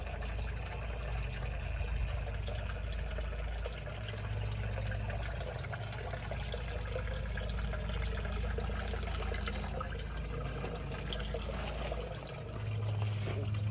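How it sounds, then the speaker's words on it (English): Aquaponics system with fish tank water flowing through it, a steady, continuous trickle and splash of running water with a low hum underneath, close and unbroken. "My fish tank with some of the fish tank water flowing through here."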